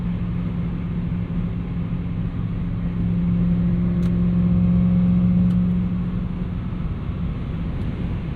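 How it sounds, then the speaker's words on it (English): A 1998 Lexus GS 400 V8 with a new Megan catback exhaust cruising in fifth gear near 2750 RPM and just under 80, a steady low engine drone and road rumble that swells slightly midway. "Really adequate torque here in 5th gear to just keep you going, revved at just under 80, 2750 RPM"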